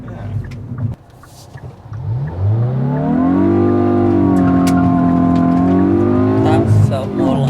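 A 2022 Hyundai i20N hot hatch launches hard under launch control, its engine rising from idle into a loud, steady, climbing drone heard from inside the car, with voices talking over it.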